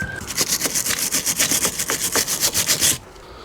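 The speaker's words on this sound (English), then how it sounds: "wire brush this" Wire brush scrubbing gunk off a Kia Venga rear brake caliper carrier, a rapid run of about twenty close, rhythmic rasping strokes that stop abruptly near the end.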